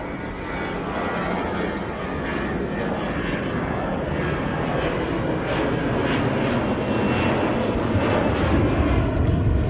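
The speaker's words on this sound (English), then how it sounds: "Look at the plane." An airplane flies overhead near a beach, its engine a loud, continuous roar that holds steady and swells slightly toward the end, with no talking over it.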